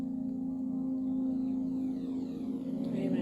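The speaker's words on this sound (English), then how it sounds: "The music is fading out right now as the song begins to start again," Soft ambient background music from a breathing event, a low sustained tone with gentle harmonics holding steady and quietly fading out alone.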